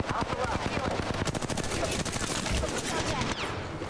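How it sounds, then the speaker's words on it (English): Gunfire from an online battle royale shooter game: sustained rapid automatic bursts, loud and dense, continuing without pause through the whole stretch. "Taking fire."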